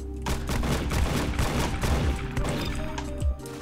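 Rapid bursts of video game gunfire from Roblox Arsenal crackle in quick succession with a fairly slow-firing gun, steady volleys continuing throughout without speech.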